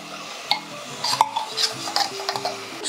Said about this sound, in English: And then stir that through.